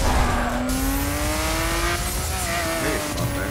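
A Ford Mustang racing in The Crew, loud sustained engine drone with a rising pitch as it accelerates, close and continuous with no talk.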